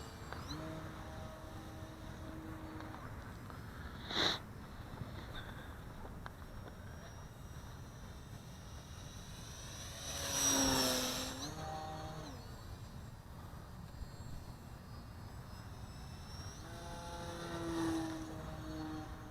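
A Flite Test Spitfire RC model airplane flying, its electric motor whining faintly from a distance and swelling into louder passes before fading away again, with no talk over it.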